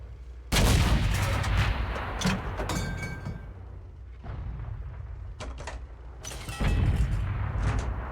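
Tank cannon shots in a tank video game, APCR rounds fired from a Skoda tank gun, three loud booming blasts spaced a few seconds apart, each with a sharp crack and rumbling tail.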